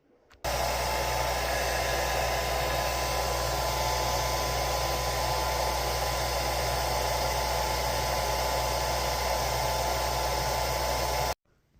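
Hair dryer switched on and run continuously for about eleven seconds while blow-drying hair, a loud, steady whooshing roar with a constant motor hum that cuts off abruptly at the end.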